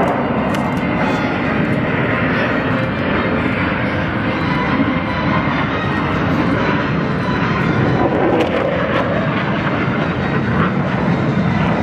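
Thunderbirds jet aircraft roar past at the Wings Over McConnell air show, a loud, sustained, broadband engine rush that fills the whole stretch without letting up.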